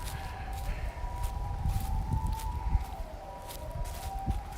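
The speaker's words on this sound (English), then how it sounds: "ambulance and fire truck on signal" Ambulance and fire truck sirens wail in the distance on a Japanese street, a thin wavering tone rising and falling steadily over muffled street noise and low rumble.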